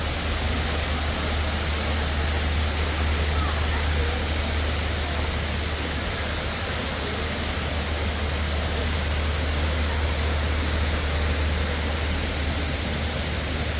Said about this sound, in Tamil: அருவி ஓடுது.